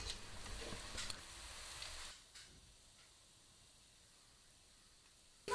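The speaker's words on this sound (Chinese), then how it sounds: "再把油温升到80，再下锅复炸一下" Sliced pork for guo bao rou re-fried in hot oil gives a close, steady sizzle for about two seconds, then settles into a quieter hiss, with a brief clatter at the very end.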